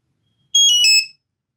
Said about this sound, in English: press and hold the button again for 2 or 3 seconds and you'll get the tones and it'll be deactivated